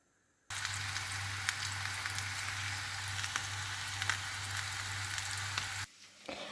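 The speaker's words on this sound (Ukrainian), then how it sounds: "буду обжарювати на середньому вогні" Vegetables sizzle in oil in a hot pan over medium heat with a steady crackling hiss that starts abruptly and stops near the end, followed by faint clatter.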